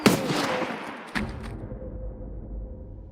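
Shotgun fire in the first-person shooter Escape from Tarkov, a loud close blast followed by a second sharp report and a short decaying tail.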